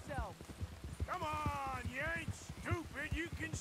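Arabian horse galloping in the video game Red Dead Redemption 2, its rapid, steady hoofbeats pounding close and loud throughout, with a voice and whooping, wavering vocal sounds layered over the gallop.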